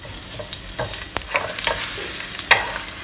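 Thinly sliced young ginger frying in hot oil in a pan, a continuous bright sizzle with scattered crackles and stirring scrapes, close and fairly loud, no voices.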